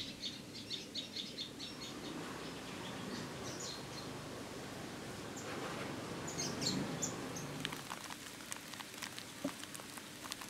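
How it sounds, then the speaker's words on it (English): A garden bird in Thailand calls while bathing in water with its beak full of food, giving faint, intermittent chirps over a steady wash of splashing and background noise. "A beak full of food for one of the offspring there, taking a bath and calling all at the same time."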